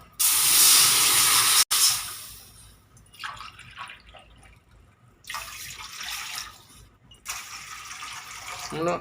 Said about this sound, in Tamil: 3 கிளாஸ் தண்ணி எடுத்து அப்படியே ஊற்றிடுங்க